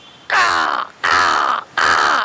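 Three drawn-out, raspy caws from a human voice mimicking a crow, evenly spaced with brief pauses, loud and close.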